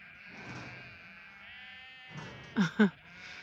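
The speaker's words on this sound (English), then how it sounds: "Can you hear our lambs?" Two short, loud bleats from lambs on a farm, one right after the other, near the end of a calm stretch with faint background sound.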